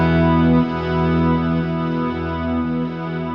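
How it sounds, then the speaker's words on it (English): Electric guitar volume swells through an echo effect, smooth sustained notes fading in without a picked attack and ringing on in repeats, steady and moderately loud with no voices. "if we start adding this swell, volume swell that I talked about, I've stopped playing and it's still carrying on, but you're not hearing the attack of the note"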